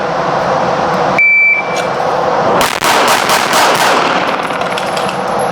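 Rapid string of pistol shots from a Wilson SFX9 with a mounted optic, fired in a quick burst on a training range, loud and close, preceded by a short electronic beep from a shot timer.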